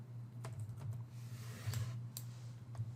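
Keys tapped on a computer keyboard while a folder name is entered, a few soft irregular clicks spread over a steady low electrical hum, no voices.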